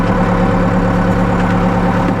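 A Cummins 4BT diesel engine idles at roughly 900 RPM, a loud, steady low rumble that holds an even throb throughout, close up with no talking.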